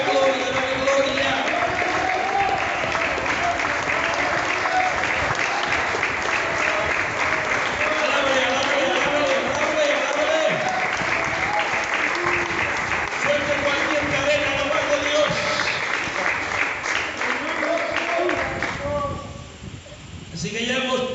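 A church congregation applauding for the Lord, sustained loud clapping for about eighteen seconds with voices calling out over it, then fading away at the end.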